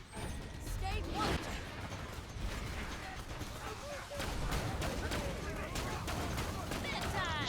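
Rapid bursts of Maliwan elemental gunfire from Maya in Borderlands 2 rattle with mechanical clicks and impacts, a dense, continuous stream of shots mixed with game effects while a player talks.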